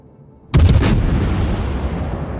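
A single heavy naval gun salvo in a warship video game, a sudden loud boom with a sharp crack that rolls into a long rumbling decay, heard alone.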